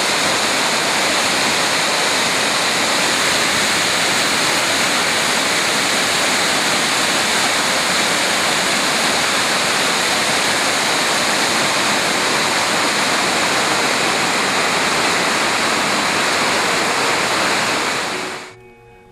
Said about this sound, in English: At 92 meters, the Lisbon Falls are the highest waterfall in the area.